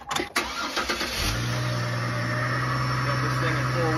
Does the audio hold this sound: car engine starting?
yes